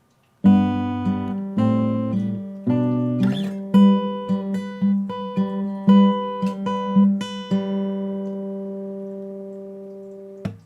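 Slow fingerpicked acoustic guitar notes ring out one after another, forming a gentle, evenly paced pattern with sustained overlapping tones that fade at the end.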